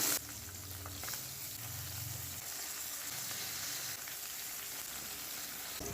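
After flipping, bata fish keeps frying in mustard oil with a faint, even hiss and crackle, steady throughout with a low background hum.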